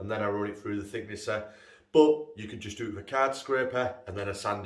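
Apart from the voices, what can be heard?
No everyday noise stands out behind the speech.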